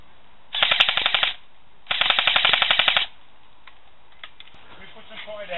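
Two rapid bursts of airsoft gunfire in an outdoor skirmish, fast rattling shots close by, each lasting about a second, followed by faint scattered pops and voices.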